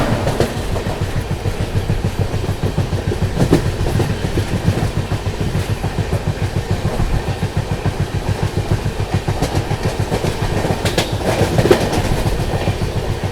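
The 12556 Gorakhdham Superfast Express rolls steadily along the tracks, its wheels beating a fast, regular clickety-clack with a loud, continuous rumble.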